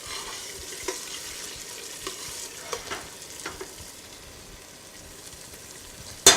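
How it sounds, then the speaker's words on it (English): Spaghetti jollof tomato base frying in oil in a pot, a steady soft sizzle with occasional scrapes of stirring, close and continuous, ending in a brief louder clatter. "I want it to fry for a little bit more, so it will release all its flavor as well"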